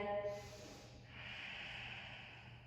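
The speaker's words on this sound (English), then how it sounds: "Breathing." Breathing during a yoga class in pyramid pose, a drawn-out breath sound with a sharp nasal onset that then settles into a steady airy exhale, close and fairly quiet.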